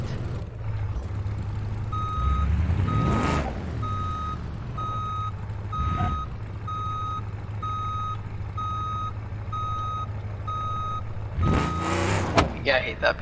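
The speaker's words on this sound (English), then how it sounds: "Yeah, I hate that beeping." Steady, evenly spaced reversing beeps from a truck in the BeamNG Drive driving game, repeating over a low engine hum, with a few louder passing whooshes and clunks.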